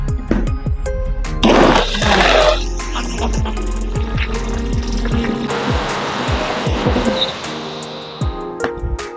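A blender grinds frozen pineapple, milk and water in a loud, continuous churning whir with rattling chunks early on, smoothing into a steadier liquid roar as it runs for about nine seconds.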